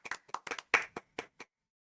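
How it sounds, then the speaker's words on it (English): In the video game Persona 4 Arena, a short burst of about ten sharp, close handclaps comes in an uneven rhythm, then stops. "I don't think the applause is necessary."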